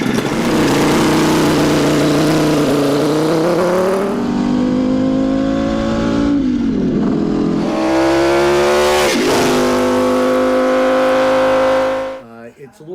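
A custom five-cylinder motorcycle engine built from a Kawasaki 750 runs loud and close, its revs climbing, dropping and surging again before it cuts off near the end.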